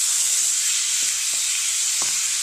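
Onions with turmeric fry in a pan for a broccoli tomato curry, giving a steady, close hiss of sizzling oil with a few soft stirring knocks, no voices.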